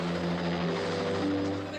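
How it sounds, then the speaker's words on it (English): A helicopter passes close and loud, its rotor chop and engine drone forming a steady, dense roar that holds for a couple of seconds without pause. "I'm going to learn how to fly that helicopter in case anything happens to Steven, our only pilot."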